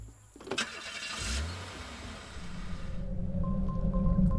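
A car engine cranks and catches in Die Kunst des Mordens, a brief starter whir and thump followed by a rising, steady idle rumble with a faint repeating chime, no voices.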